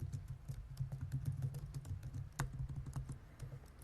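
Rapid typing on a computer keyboard, a steady run of soft close key clicks with a few sharper strikes, alone with no voices.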